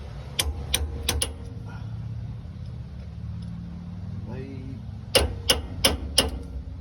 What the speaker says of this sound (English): all I use there was a straight pinpoint chisel, and to finish it, just a little dowel round point